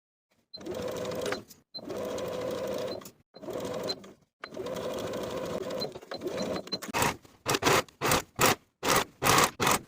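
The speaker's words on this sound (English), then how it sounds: "Sew your sleeve into the armhole with a 3/8 inch seam allowance" A sewing machine sews a sleeve into a dress armhole in a series of close, buzzing runs, the first few longer and the last ones short, rapid stop-start bursts.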